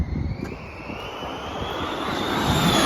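A Formula 1 race car speeds past near a college in London, its engine a loud high-pitched whine that rises steadily as it approaches, with no talk over it.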